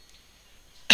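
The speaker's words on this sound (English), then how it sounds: "Sorry, I had a bit of a cough." A single sharp, loud cough bursts out right at the end, after a near-silent stretch, heard during a Combat Arms game review.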